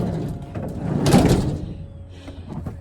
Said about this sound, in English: Never grab the sliding door of a van to try and stable yourself.